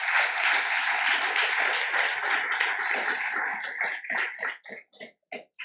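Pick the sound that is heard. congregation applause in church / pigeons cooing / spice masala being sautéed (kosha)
congregation applause in church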